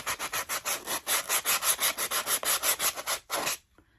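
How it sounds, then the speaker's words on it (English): Sandpaper rubs the rough raw wood edge of a Dollar Tree sign in quick, even back-and-forth strokes, about twenty close, scratchy passes before stopping abruptly. "Just want to give it a sand all the bits down, like sharp bits."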